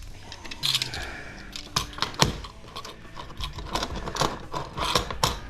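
Small screws being worked loose from a hard drive, with close, quiet ratcheting clicks and light metallic taps scattered irregularly throughout.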